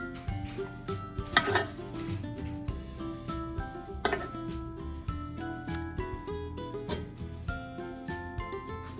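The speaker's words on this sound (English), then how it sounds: "we're gonna take a bowl, plate, whatever serving vessel you decide, and just spoon some of this rice into the bottom of the bowl" A metal spoon scrapes and clinks against a bowl while rice is served, making several bright clinks and knocks over a steady sizzling background.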